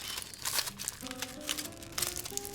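Aluminum foil crumpled by hand into a ball, giving dense crinkling and crackling bursts across the whole stretch, fairly close and moderately quiet, with faint tonal background sounds underneath and no talking.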